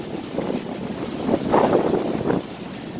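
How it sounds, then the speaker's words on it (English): Strong wind buffeting the microphone on a boat in rough seas in the Gulf of Mexico off Mississippi, a continuous low roar with gusts swelling in the middle, with water rushing faintly beneath. "So it's really, really windy right now."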